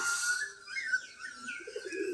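Pigeons settling after flight, country and crested birds together, with soft intermittent cooing and faint chirps rising over light outdoor background; no talking.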